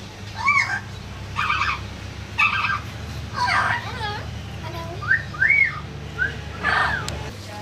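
Wild birds call at the Maleny Botanical Gardens in Australia, a run of clear whistled and chirping calls scattered across several seconds over a steady low hum, with no talking.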